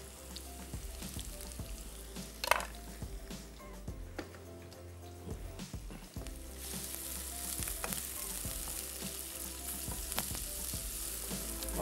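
Garlic and onion frying together in a pan, a steady soft sizzle with occasional stirring clicks and scrapes that grows slightly louder toward the end.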